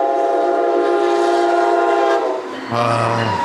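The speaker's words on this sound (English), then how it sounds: "Here comes the train." A train rolls past close by, its horn blaring in long sustained tones over a steady rumble of cars on the rails, with a brief dip before the horn sounds again loudly.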